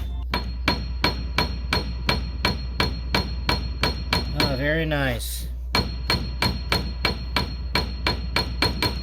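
Steady repeated notes of a Baldwin SD6 piano, hammer striking string in even rhythm, about two per second, with a brief pause where a voice speaks before the striking resumes.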